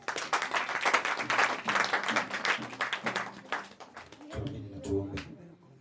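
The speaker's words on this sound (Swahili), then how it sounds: "Tumpigie makofi." A church congregation claps steadily for several seconds after a cake blessing, dense applause that thins toward the end as a voice begins speaking.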